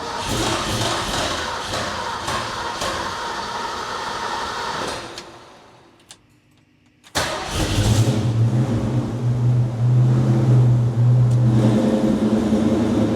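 A Ferrari engine fires up after a quiet pause, catching with a sudden burst and settling into a loud, deep idle hum; steady noise precedes the start.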